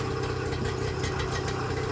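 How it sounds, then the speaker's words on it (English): Carburetor engine idling steadily on its remaining fuel, a close, even low rumble with faint knocking, no voices. "The engine's going to come to a putt here as soon as it runs out of fuel."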